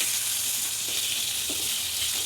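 Brinjal slices sizzle steadily in hot oil in a pan where fish has just been fried, a dense continuous hiss, close and fairly loud with no voices.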